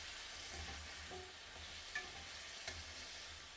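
Potatoes sautéing in a pan ahead of ridge gourd and prawns, a steady soft sizzle with light stirring scrapes and a couple of small clinks, no voices.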